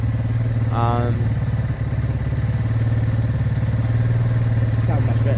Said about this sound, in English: Bike sounding much better now.